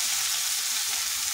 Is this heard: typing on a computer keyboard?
no